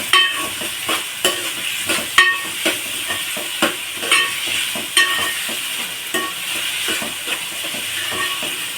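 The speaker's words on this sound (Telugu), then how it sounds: "టమాటాలు వేసుకుంటున్నాను, పచ్చిమిరపకాయలు." Tomatoes and green chillies fry in hot oil for a goat head curry, a steady close sizzle broken by regular scraping strokes of a spoon stirring the pan.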